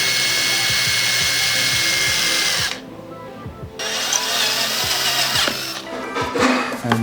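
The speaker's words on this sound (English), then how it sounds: "on this specific while drilling the hole" A drill runs loud and steady, stops briefly, then starts again with uneven grinding and clatter as it bores into material.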